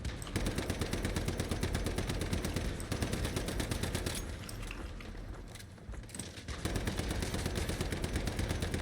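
Rapid automatic gunfire from the player's weapon in the survival shooter Once Human, a steady rattling stream of shots that thins briefly in the middle and then resumes at full rate.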